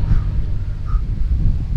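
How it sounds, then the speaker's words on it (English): Wind blows outdoors, buffeting the microphone with a loud, gusty low rumble that rises and falls over the short span, and a faint bird call sounds briefly. "it's very windy"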